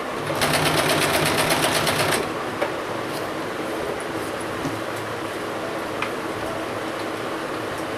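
A sewing machine stitches a 1-inch wide ribbon into piping on a small half-pant suit, one fast close burst of about two seconds, then a quiet room with faint handling clicks.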